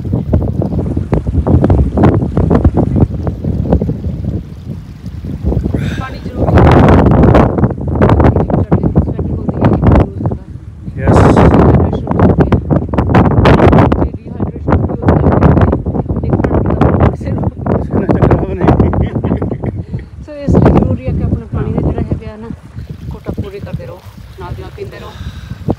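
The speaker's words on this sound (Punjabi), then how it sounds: "ਚੱਲ ਕੇ ਬਹੁਤ ਠੰਡੀ ਹਵਾ ਚੱਲਦੀ ਹੈ" Cold wind gusts hard and steadily across the microphone on a mountain trek in England, a loud continuous roar that swells and eases, with a voice heard briefly near the end.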